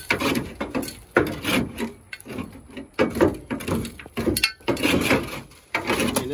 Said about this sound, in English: Get a pry bar.